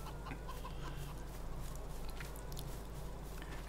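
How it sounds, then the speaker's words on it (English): Roosters on a Farming Simulator 22 farm crow and cluck steadily against a low ambient hum, several birds calling at moderate distance with no talking. "there's a lot of roosters around"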